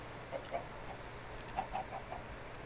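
Minecraft chickens cluck in two short clusters of soft, quick notes over a constant low hum, faint and without speech.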